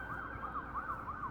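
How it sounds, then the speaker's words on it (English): Emergency vehicle sirens wail steadily in rising and falling cycles after Hurricane Idalia, with police and deputies out among downed huge trees and power still out; the sound is moderately distant and continuous with no talk. "You can hear the sirens still."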